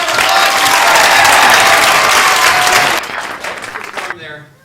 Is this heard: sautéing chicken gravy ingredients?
no